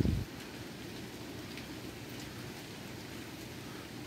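Steady rain hisses evenly across the whole stretch, a soft constant patter with a brief thump at the start and no voices.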